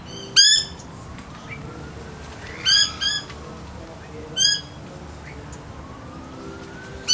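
Birds at a bird sanctuary give three loud, harsh squawks spaced a couple of seconds apart, close by, over a steady low background hum with a faint rising tone.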